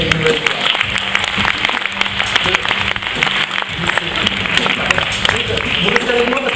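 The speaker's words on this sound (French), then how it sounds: "Merci beaucoup, on peut les applaudir avec une nouvelle fois." A crowd at an awards ceremony gives the winners another round of applause, with loud, continuous clapping from many hands and faint voices blended underneath.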